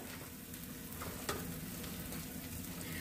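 A ground masala paste fries in oil for restaurant-style matar paneer, giving a steady, dense sizzle with one brief clink partway through.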